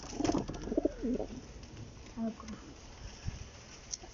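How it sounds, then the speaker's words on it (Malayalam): Several low, throaty pigeon coos come in short bursts near the start and again midway from a pigeon coop, close and fairly clear against a quiet background. "പ്രാവുകളുടെ കൂട് തുറക്കുകയാണ്"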